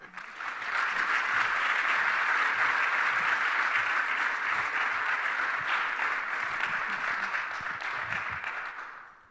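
A lecture hall audience at a race and social justice talk claps steadily in a thick, unbroken roar of many hands, holding for several seconds and then tapering off.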